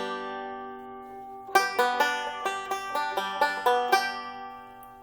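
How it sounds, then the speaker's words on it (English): A lingering ringing tone fades, then a chord is strummed repeatedly on a Dean six-string banjo with plain unwound strings. The crisp, jangly strokes come close and alone in a steady rhythm, then the last one is left to ring. "And as a chord, it will sound like this."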